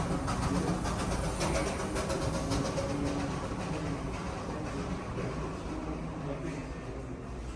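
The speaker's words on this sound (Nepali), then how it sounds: "ट्रेन" A train rolls past Darjeeling railway station with a steady broadband rumble and clatter that fades slightly toward the end, and no talk is heard.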